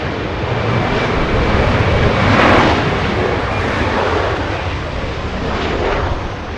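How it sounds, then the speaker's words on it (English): An American Airlines airliner in from Philadelphia slows on the runway after landing at Los Angeles International, a loud, close, broad engine roar that swells briefly and then holds steady. "American Airlines slowing down right in front of us"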